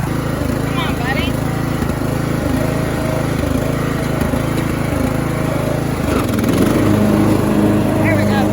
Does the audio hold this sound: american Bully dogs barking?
no